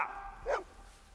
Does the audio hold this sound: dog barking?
yes